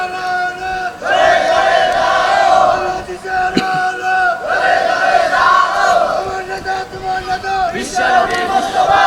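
A large crowd at a Bangladeshi Islamic religious gathering roars a chant of Allahu Akbar in several loud, surging waves, many voices shouting together in a dense, echoing mass.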